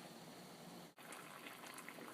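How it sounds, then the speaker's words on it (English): Dandelion greens at a rolling boil in a pot of water give a steady, dense bubbling hiss that cuts out for an instant near the middle and then resumes just as strongly. "So these greens have been boiling, as you can see it's a good boil"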